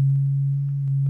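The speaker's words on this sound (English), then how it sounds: "So the first one is the sine wave." A pure, steady low sine wave tone from a wavetable synthesizer oscillator holds loud and unchanging throughout, alone with no voices.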